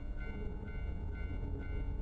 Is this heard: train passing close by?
yes